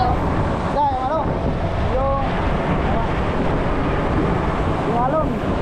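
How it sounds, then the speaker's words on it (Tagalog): Large ocean waves surge and splash against a small boat out on the Pacific, a steady loud wash of water and wind roar filling the whole scene, with someone speaking briefly over it. "Yung malaking alon dito sa akin."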